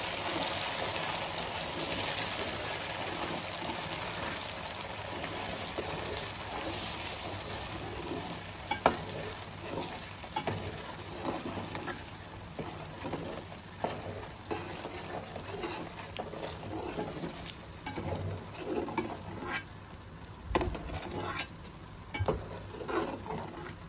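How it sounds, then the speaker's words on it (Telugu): Freshly ground ginger and onion paste fries in hot oil for a homemade fish pickle, a steady close crackling sizzle broken by repeated scraping stirs, with no talking. "అల్లం మంచిగా పచ్చివాసన పోయేంత వరకు ఆయిల్లో వేయించుకోవాలి."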